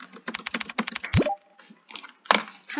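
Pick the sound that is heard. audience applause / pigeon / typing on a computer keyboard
typing on a computer keyboard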